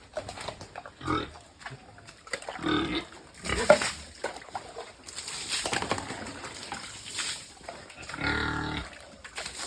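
Pigs on a pig farm grunting and squealing in repeated bursts, close and fairly loud, with other farm noises and no talk.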